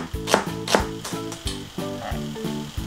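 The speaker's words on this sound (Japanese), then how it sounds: "玉ねぎはこうやってスライスにします。" A knife slices an onion on a cutting board in a home kitchen, giving a steady run of crisp, evenly spaced chops close by, with no talk.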